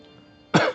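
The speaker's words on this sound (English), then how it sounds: "I'm coughing from it" One short, sharp cough rises abruptly out of a quiet room, close and fairly loud, with no talk over it.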